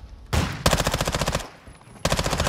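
Rapid submachine gun bursts from a Call of Duty Warzone 2 match crackle loud and close in two long volleys separated by a short lull, with a brief earlier burst of noise.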